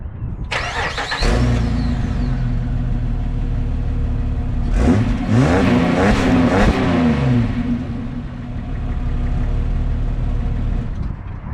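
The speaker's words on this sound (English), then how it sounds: "powered by the legendary Jeep 4-liter naturally aspirated straight-six engine" A 2006 Jeep Wrangler Unlimited's 4-liter naturally aspirated straight-six engine cranks and catches, then settles into a steady idle with a surge of revving in the middle before dropping back to a low rumble.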